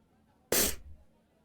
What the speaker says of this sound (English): Yeah, every time I sneeze.